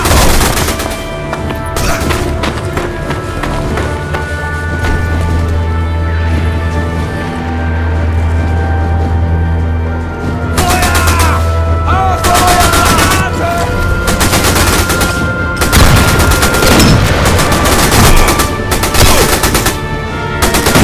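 Loud, dense gunfire from the video game Sniper Elite V2 Remastered, with overlapping rifle and machine-gun bursts cracking in rapid succession over a constant low rumble throughout.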